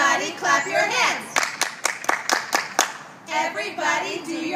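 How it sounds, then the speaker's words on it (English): A group of children at a Portland school morning assembly clap in a quick, even burst of about eight sharp claps, with an adult voice talking just before and after. "Everybody clap your hands"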